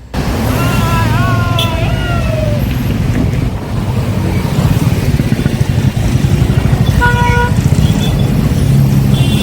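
Congested traffic jammed on the twin Patto bridge in Goa, including a Kadamba bus: a steady, loud rumble of idling and creeping engines with wind buffeting the microphone and a few short horn toots near the start and later.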